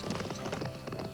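Horse hooves clip-clopping at a steady trotting rhythm as a sound effect in a musical audio drama, several even hoofbeats, fairly soft and alone.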